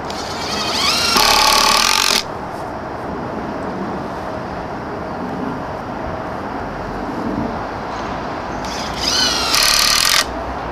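A power drill drives screws into a 4x4 wooden fence post in two short, loud whirring bursts near the start and end, with quieter outdoor background in between.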